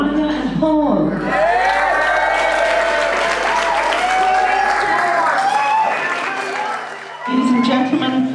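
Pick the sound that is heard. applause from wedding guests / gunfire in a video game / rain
applause from wedding guests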